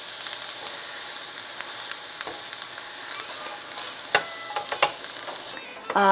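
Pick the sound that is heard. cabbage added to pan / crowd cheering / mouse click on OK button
cabbage added to pan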